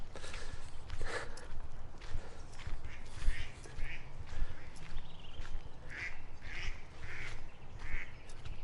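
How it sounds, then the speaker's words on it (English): Ducks quack repeatedly outdoors in a park, several short calls spread across the scene over a steady low rumble of background noise, with faint footstep-like sounds. "there's another family of 11 little ducklings here somewhere"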